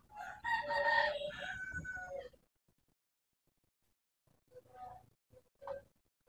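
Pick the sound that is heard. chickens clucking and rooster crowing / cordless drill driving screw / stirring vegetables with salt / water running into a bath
chickens clucking and rooster crowing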